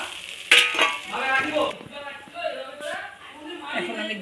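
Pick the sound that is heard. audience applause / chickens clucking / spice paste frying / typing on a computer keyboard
spice paste frying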